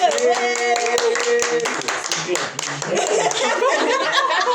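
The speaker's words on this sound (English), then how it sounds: "Wasichana wa round of applause for the men." A small group of women claps for the men during a casual discussion on masculinity, a brisk, close round of hand claps mixed with chuckles and overlapping voices.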